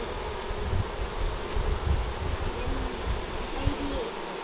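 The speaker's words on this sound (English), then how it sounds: "Lots of bees." Honeybees swarm around an opened hive during an inspection, a continuous dense buzz of many insects close by, with breezy wind noise underneath.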